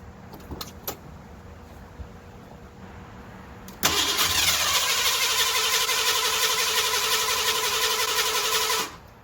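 A Ford LTD with a newly installed camshaft and its idle screw turned up: a few quiet clicks, then the starter catches and the engine fires into a loud steady idle that runs for about five seconds before cutting off abruptly.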